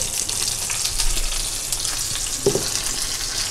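Stuffed green chillies fry in oil in a pan, giving a steady moderate sizzle with small crackles and one brief stirring knock.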